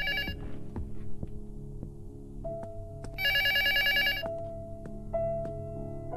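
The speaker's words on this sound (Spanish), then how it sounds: "Llaman por teléfono." A telephone rings in the horror game Luto, giving shrill repeated ring bursts over a low throbbing, heartbeat-like drone and faint ambient hum.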